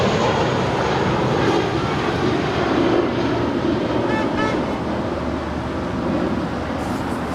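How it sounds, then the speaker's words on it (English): An American Airlines airliner, Flight 2332 to Indianapolis, takes off from runway 25 right at LAX with a steady, broad, fairly loud roar that holds throughout with little change in level. "That was American Airlines Flight 2332 departing to Indianapolis."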